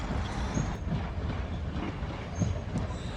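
A passenger train rolls through Crewe station, giving a steady broadband rumble with faint wheel clatter and light squeals, heard from the platform at moderate distance.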